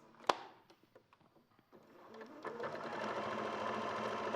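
A sewing machine stitches a seam, starting after a sharp click and a few faint taps, then running steadily and growing louder with a fast mechanical whirr and chatter, close by.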